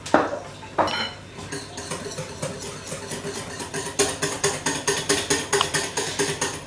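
A spatula or whisk stirs thick homemade body lotion in a bowl, giving close, rhythmic scraping and clicking strokes against the container that build into a fast, regular beat toward the end.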